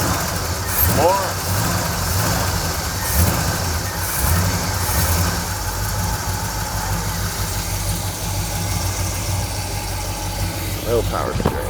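A '71 Chevy K10 truck engine idling roughly and unevenly close by, with a steady uneven rumble, while people talk over it.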